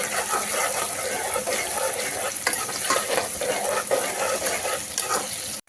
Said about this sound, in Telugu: పచ్చిమిర్చి వేసేసుకున్న తర్వాత ఉల్లిపాయ వేసుకొని ఫ్రై చేసేసుకోవాలి